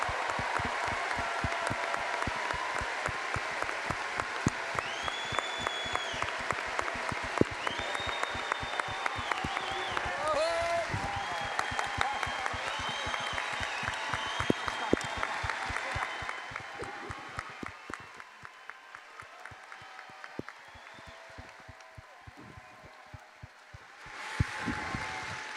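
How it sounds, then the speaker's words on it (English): A big convention audience at a Star Wars Celebration panel for Attack of the Clones applauds Anthony Daniels, dense sustained clapping with some cheers, then fading toward the end before a brief final swell. "Anthony Daniels deserves a huge round of applause"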